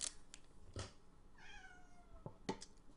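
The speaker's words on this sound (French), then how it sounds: "Pendant que le chat est en train de hurler à la mort." A cat lets out one drawn-out, wavering meow, faint and somewhat distant, with a few light taps and clicks nearby.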